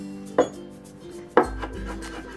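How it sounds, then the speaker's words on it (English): A knife mincing ginger and garlic on a board, with two distinct close chopping strikes about a second apart over a quiet kitchen background. "let's mince the ginger and garlic"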